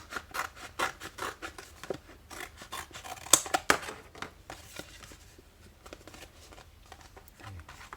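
Scissors snip through aluminium for a tetra fish skeleton craft, making rapid close crisp cuts in quick bursts with scratchy rubbing between them, then a quieter pause near the end.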